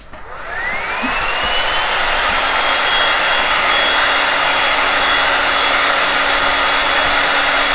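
A hair dryer blows steadily on freshly painted stars on a desk, starting up in the first second and then holding a loud, continuous close-up whoosh with a faint motor whine, no talking.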